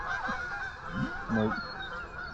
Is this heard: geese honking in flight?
yes